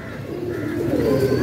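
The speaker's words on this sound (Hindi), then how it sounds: "ये बशर भाई वाला जी कबूतर है दोस्तों।" Low, soft cooing of pigeons murmurs continuously at close range, a brief throaty rumble with no speech.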